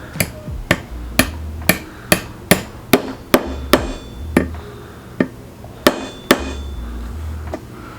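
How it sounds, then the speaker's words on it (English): A small texturing hammer taps silver in a steady rhythm, about a dozen sharp, ringing strikes, close and clear, with brief pauses. "I need the right hammer. So grab the right hammer, stick this right on top"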